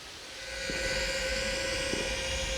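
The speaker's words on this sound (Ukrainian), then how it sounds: "На щастя, це були маневри дронарів 108-ї бригади, які перевірили нашу реакцію." A military drone flies close overhead, giving a steady droning whine with a constant pitch over a low rumbling hiss that swells slightly louder and then holds, heard outdoors with no talk.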